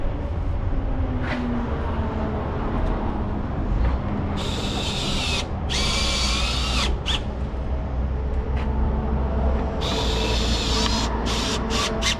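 Power drill snugging the sliding door roller bolts on a Honda Odyssey van, several short whirring bursts separated by pauses, close and fairly loud over a low background hum.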